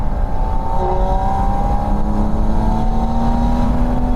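Porsche Spyder RS engine with the exhaust button on, pulling hard under load as its steady growl climbs smoothly in pitch, loud and close throughout, with no talk over it.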